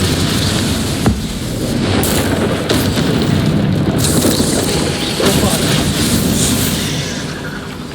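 Fiery Confringo blast spells go off in Hogwarts Legacy combat inside a rune chamber, with repeated booms and a roaring, crackling wash of noise that runs loudly throughout.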